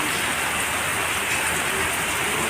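Heavy monsoon rain pouring down outside a home, a dense, steady hiss of drops that runs unbroken and loud throughout, with no voices over it.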